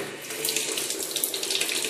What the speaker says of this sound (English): the first thing that surprises me is I turn the tap on